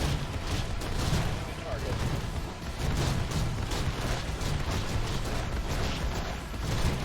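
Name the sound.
shotgun fire in video game Infested Planet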